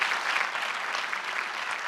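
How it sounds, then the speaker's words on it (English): Warm applause from a film festival audience honoring an award-winning cinematographer: steady, dense clapping from a full room, with no talking. "very warm applause to Yorick Le Saux"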